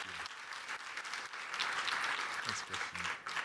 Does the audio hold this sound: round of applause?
yes